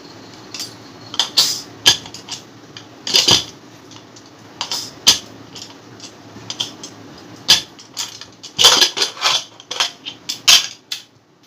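Metal clatter and clinks of a pressure cooker being opened in a home kitchen after cooking dalma, Odia lentil and vegetable stew, with a series of sharp, close knocks and rattles of lid and utensils, no talk.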